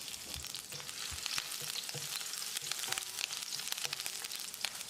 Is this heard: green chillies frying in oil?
yes